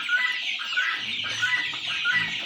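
Chickens on a poultry farm cluck and call repeatedly at close range, short sharp squawks recurring over a quiet background with no talking.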